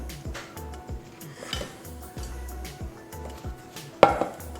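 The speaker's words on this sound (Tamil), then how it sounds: "வெசில்ஸ் எடுத்து வெளில வச்சுருங்க." Metal pots and pans clank and knock against each other in a series of close, sharp clatters, ending with one louder bang.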